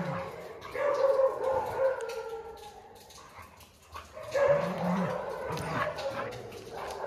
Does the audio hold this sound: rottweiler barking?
yes